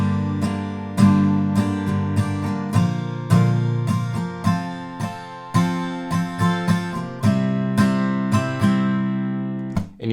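Guitar strums the chorus of a song in a down-up pattern through chord changes, ringing chords with clear rhythmic strokes, played alone at moderate volume.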